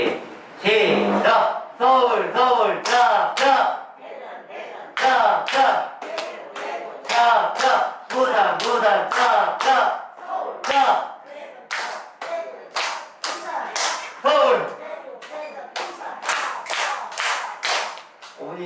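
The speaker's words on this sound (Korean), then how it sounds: "박수만 열심히 쳐" A group of seniors plays a recreational clapping game, clapping together in quick, loud, rhythmic bursts that stop and restart, with voices singing and chanting along throughout.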